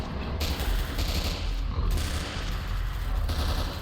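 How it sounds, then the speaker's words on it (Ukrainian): Gunfire in the video game S.T.A.L.K.E.R.: dense, sustained bursts of shots roll together into a continuous loud barrage with a few brief dips, heavy and close throughout. "он стрілянина"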